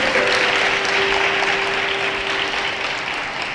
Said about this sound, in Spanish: ¿Cuántos le pueden dar un aplauso al Señor bien fuerte, bendecirle al Señor?